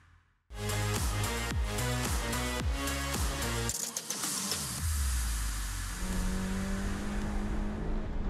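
A Nissan Sentra Cup race car engine revs hard on the ICAR Mirabel circuit, bursting in loud and close, climbing through repeated upshifts, then settling into a steady high drone.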